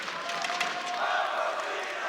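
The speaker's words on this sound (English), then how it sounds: "Crowd's certainly getting excited now as TSM finds their first round onto the board" Crowd at a Rainbow Six Siege esports arena during the Six Invitational 2020 playoffs, a broad, steady wash of cheering and shouting, moderately loud and somewhat distant.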